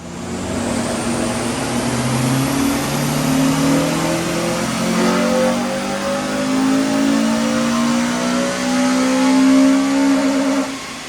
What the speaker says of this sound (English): we're going to do a stock power run